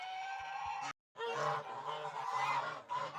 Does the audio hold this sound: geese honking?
yes